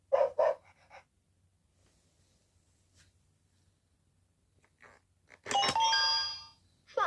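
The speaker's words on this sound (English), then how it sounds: "Dog." A LeapFrog Learning Friends interactive animal book plays a dog sound: two short barks at the start, a long quiet gap with faint clicks, then a loud, sustained doorbell-like chime near the end, with no talking.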